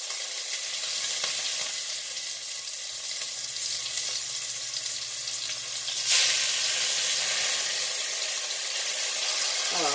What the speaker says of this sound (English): So we're gonna brown the meat on both sides.